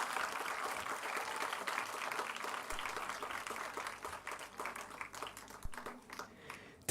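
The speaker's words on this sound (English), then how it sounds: "Can we have a huge round of applause for all the 6 schools for these wonderful performances?" Applause from an audience following performances by six schools at a Commonwealth India cluster event, a steady sustained wash of clapping that thins and fades toward the end.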